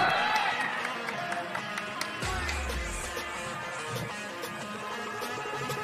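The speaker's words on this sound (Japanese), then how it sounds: "この歓声、そしてね皆さんのこういう声が非常にこのゲームのテンションを上げてくれるんで" Crowd noise at a 3x3 basketball quarter-final between Shinshu Matsumoto Dinablacks and Dominate, a steady roar of spectators with claps and shouts throughout, with a low thump partway through.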